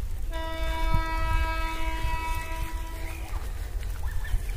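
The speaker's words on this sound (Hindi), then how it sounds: "देखिए सामने एक ट्रेन आ रहा है" A train approaching a station sounds a long, steady horn blast for about three seconds over a low rumbling background, then the horn cuts off and the rumble continues.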